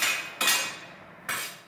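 Hammer striking an anvil during hand forging of an axe by a blacksmith: two sharp, bright metallic clangs about a second apart, each ringing and fading, close and loud.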